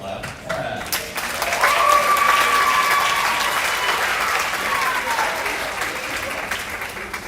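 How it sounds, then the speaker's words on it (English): An audience at a school awards night claps for the junior varsity boys basketball team, a sustained dense applause that swells and then continues steadily, with a voice and a whistle-like tone sounding over it. "Give me a clap"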